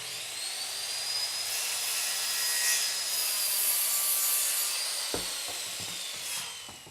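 A circular saw makes a bevel cut through a board, a loud steady high whine of the blade biting into wood for several seconds, ending with a clunk and rattle as the cut finishes.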